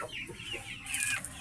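Several Rhode Island Red chickens and chicks cluck softly nearby in a coop, with short, higher calls scattered over a low background hum.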